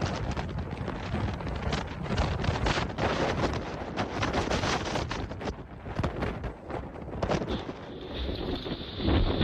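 Strong storm winds roar during Storm Eunice in the UK, a loud, dense, continuous rush of gusts buffeting the microphone, swelling and easing without pause and with no talking.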